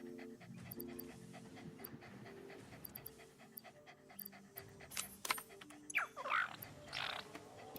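Dog-like creatures in a video game pant steadily and close by, with rhythmic breathy huffs over a low game hum, mechanical clicks and a few bright chimes near the end.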